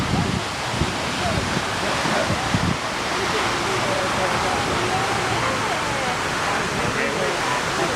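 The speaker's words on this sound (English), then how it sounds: "We are directly under the waterfall." Waterfall roaring from directly overhead, a dense, continuous broadband rush of falling water that stays steady and close throughout.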